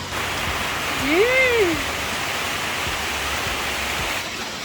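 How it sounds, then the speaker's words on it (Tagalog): Steady, dense rainfall hisses continuously on a farm, with a faint rising-and-falling whistle or bird call briefly cutting through near the start. "Umuulan na talaga"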